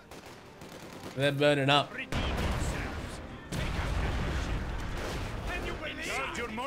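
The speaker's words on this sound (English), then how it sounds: "An artillery barrage." Artillery barrage in Company of Heroes 2, heavy rumbling blasts and crackling explosions rolling on one after another, loud and close, with a voice calling out in between.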